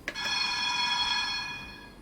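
A tram's electric bell in the Tram Sim video game rings as one continuous, shrill, metallic trill, much like a fire alarm, sustained for about two seconds before fading slightly, with nobody talking.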